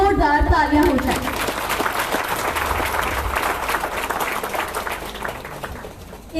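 A crowd at an Independence Day event at a central university applauds loudly and steadily for soldiers, the clapping thinning toward the end, with a voice briefly heard at the start.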